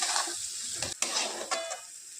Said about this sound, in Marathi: वाटण टाकल्यानंतर छान परतून घ्यायचं आहे आपल्याला परत तर व्यवस्थित मिक्स करायचं